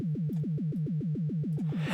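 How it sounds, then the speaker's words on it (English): A deep synth sub bass, a sine wave with a pitch fall, thumps rapidly in a steady machine-gun rhythm, each hit starting higher and sliding down, about a dozen loud repeats, with a noisy burst at the end. "And I have a pitch fall in this."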